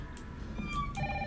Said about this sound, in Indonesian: Oke, ada telepon.